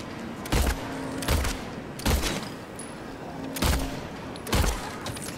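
Gunshots in Silent Hill 2, five loud, sharp booming shots fired one at a time at irregular intervals of about a second, each with a short ringing tail.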